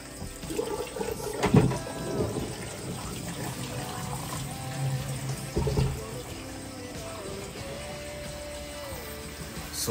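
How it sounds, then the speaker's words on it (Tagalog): Tap water runs steadily while meat is rinsed by hand for cooking in a pressure cooker, with a couple of louder splashes and gushes over the flow and no talking. "hugas pa rin lang tayo ng hugas hanggang sa mawala na yung dumi"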